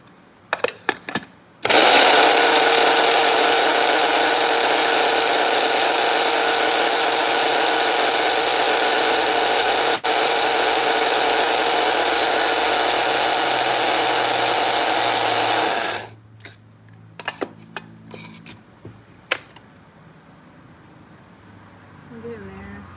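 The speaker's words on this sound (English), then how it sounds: "I need to grind this down" An electric grinder pulverises dried juniper and herbs, its motor roaring loud and steady for about fourteen seconds before cutting off, leaving a few close clicks and handling knocks.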